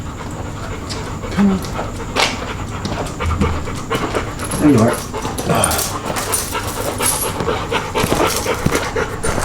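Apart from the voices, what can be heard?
dog panting after a walk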